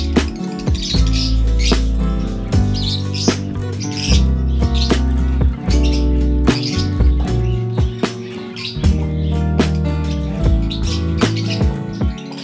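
Pet birds bred for a pet store chirp and squawk in short, repeated bursts over a steady, rhythmic background, the calls close and fairly loud throughout.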